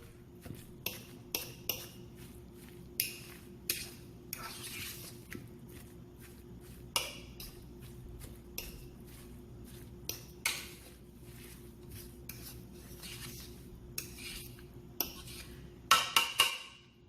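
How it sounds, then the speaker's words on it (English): A spoon scrapes and clinks in a bowl while tuna salad is stirred together with potato, giving repeated sharp taps at irregular intervals over quiet background, ending in a quick cluster of knocks. "We're gonna mix this very well. Make sure we blend that potato."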